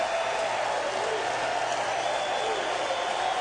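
A baseball crowd at an LSU vs Baylor game rises to its feet, cheering and applauding as a steady, dense roar that holds evenly throughout.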